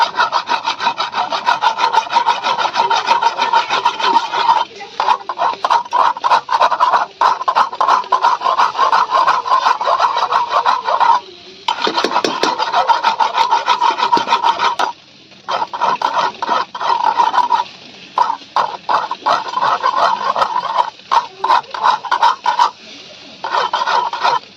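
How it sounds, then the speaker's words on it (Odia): A knife blade is rubbed at a 45-degree angle against a whetstone outdoors in a village in hot weather, making steady rhythmic back-and-forth scraping strokes, near and loud, broken by a few short pauses. "ଆଜି ସବୁ 45 ଡିଗ୍ରୀରେ ପନିକି ଘଷୁଛି"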